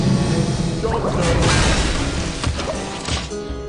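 Holy Fire spell going off in Hearthstone, a burst of whooshing, crashing impact sounds with a heavy thwack, loud and close, fading out over a few seconds with no talking.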